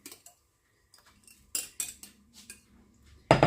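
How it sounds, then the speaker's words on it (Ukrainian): A spoon clinks and scrapes against a bowl as a semolina porridge mixture is transferred into a bigger bowl, a few sharp taps spaced irregularly with quiet gaps and a louder knock at the end. "Я зараз пересиплю в більшу мисочку, тому що погано змішувати."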